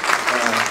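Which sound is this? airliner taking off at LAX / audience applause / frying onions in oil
audience applause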